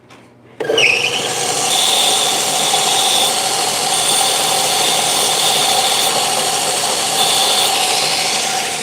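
A bench grinder spins up abruptly and whines steadily while regrinding a chisel, a loud continuous high-pitched hum with faint rasping of steel against the wheel and no talking.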